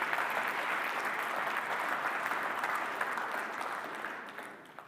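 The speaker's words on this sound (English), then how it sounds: "A big round of applause to all of the 2021 Accelerate category finalists." Dense applause from an awards ceremony audience for the 2021 Oregon Technology Awards Accelerate category finalists, steady clapping that gradually fades toward the end.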